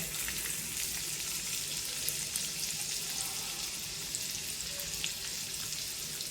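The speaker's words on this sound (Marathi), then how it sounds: "तेल तापल्यानंतर थोडीशी मोहरी फुलायला लागली की त्याच्यानंतर आपण टाकणार आहोत कट केला कांदा" Chopped onion frying in hot oil with mustard seeds, a steady dense sizzle and crackle running loud and close throughout with no voices.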